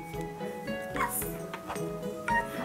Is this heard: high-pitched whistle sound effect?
no